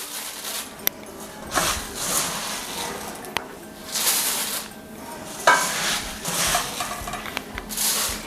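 Puffed rice is stirred into hot jaggery syrup for winter mamra ladoo, with a spoon scraping and clinking against the pan in a steady rhythm. A few sharp clicks punctuate the soft rustling and faint bubbling, with no one talking.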